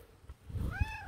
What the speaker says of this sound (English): I raise these hunting cats too.